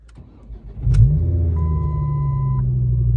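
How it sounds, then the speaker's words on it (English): A Ford Focus ST 225 with fresh gaskets fired up nearby: a brief starter crank, then a loud, deep exhaust rumble that settles into a steady idle, plus a thin whine partway through. "Apparently this car's like really loud"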